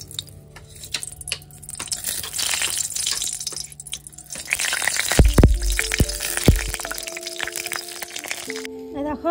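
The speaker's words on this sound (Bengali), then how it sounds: "এদিকে আমি তেলও বসিয়ে দিয়েছি লঙ্কা ভাজার জন্য" Chilies frying in hot oil in a home kitchen for mashed boiled potatoes, a steady crackling sizzle throughout, with sharper pops and a few loud clatters and knocks partway through.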